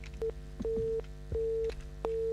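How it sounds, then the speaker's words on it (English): A telephone busy signal on a radio call-in show, heard as four evenly repeated beeps that sound close and moderately loud over a low background hum. "I hear a busy signal somewhere."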